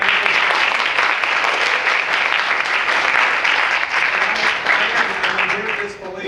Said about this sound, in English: I want to have a round of applause for the election commission.